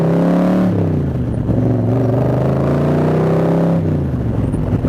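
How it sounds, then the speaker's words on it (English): A 1965 Shelby Cobra replica built by Superformance, its V8 engine roaring loudly through open headers while riding, with revs rising and falling, then a gear-change dip and the rumble climbing again. "you got that beautiful sound coming out of those headers there"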